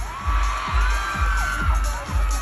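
A crowd cheers and whoops at an outdoor riverbank fan event for a film cast. The shouting swells over steady, rhythmic low thumps, loud and close throughout.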